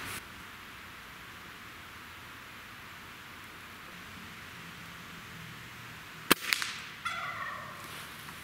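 A single sharp crack from a Gamo Swarm Whisper .22 calibre air rifle cuts through steady outdoor background hiss, followed by a few fainter ticks and rustles.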